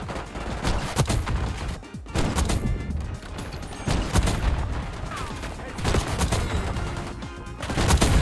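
Rapid automatic gunfire in a first-person shooter video game, dense bursts of loud cracking shots repeating throughout with short gaps, up close and intense.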